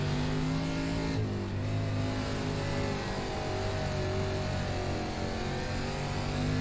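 Late model dirt race car engine in iRacing, DIRTcar Limited Late Model on a slick track at Fairbury, droning steadily with throttle modulation and a pitch drop near the start, continuous and close throughout.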